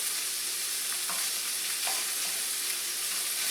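Butcher-ground beef fries in a pan while it is broken up and stirred. A steady, loud sizzle holds throughout, with a few faint scraping touches.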